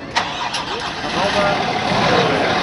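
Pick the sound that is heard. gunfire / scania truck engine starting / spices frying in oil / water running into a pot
scania truck engine starting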